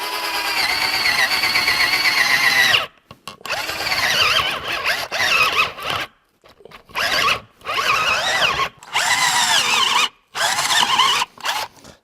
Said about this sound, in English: that is not a nice sound inside of that drill